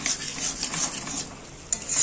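Potatoes and chickpeas are sautéed with spices in a pan, giving a steady close sizzle with stirring scrapes throughout and a sharp utensil knock near the end.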